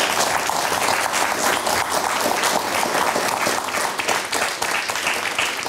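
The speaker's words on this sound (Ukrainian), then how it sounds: "От ви зараз плескали тому, що сказав пан Ренва" An audience at a public talk on Ukraine applauds in a sustained, dense wave of clapping, steady throughout with no speech over it.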